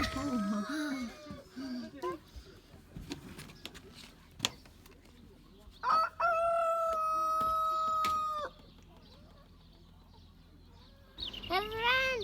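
A rooster crows loudly in one long call, with chickens clucking and squawking nearby before and after, amid some handling noises.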